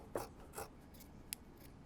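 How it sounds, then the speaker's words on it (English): Scissors snip through the seam allowance of a sewn fabric joey pouch, a few quick close cuts with brief pauses between them, heard alone in a quiet room. "So I'm just going to trim it up."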